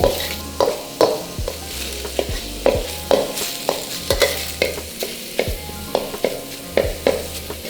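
Minced pork being stir-fried in a hot pan: a sizzling bed of frying with regular scraping strokes of a spatula, each stroke landing about every half second in a steady rhythm, close and clear.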